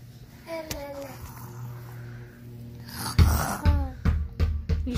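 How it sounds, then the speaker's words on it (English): A small child makes playful snoring sounds, wheezy breathy snorts repeated several times near the mic, along with whiny vocal sounds and rustling. "You snoring."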